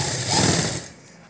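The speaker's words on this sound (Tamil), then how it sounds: "நான் வந்து டபுள் ஸ்டிச்சு போட போகிறேன்." A sewing machine runs up close while double-stitching the neck piece of a 40-inch close-neck blouse, a short buzzing mechanical whir that fades out after about a second.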